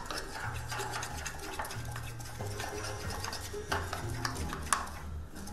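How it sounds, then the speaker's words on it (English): A healthy holiday dessert mixture with white chocolate is stirred in a container, giving a soft, steady scraping and swishing, fairly faint, with occasional light knocks and a low background hum. "we're just going to stir this on"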